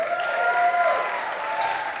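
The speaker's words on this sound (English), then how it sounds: "So a big round of applause for them as well." A crowd at an evening event applauds its producers, a full, continuous spread of clapping with a faint cheer mixed in, with a brief tonal sound rising over it early on.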